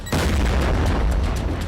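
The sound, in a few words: North Korean missile test explosion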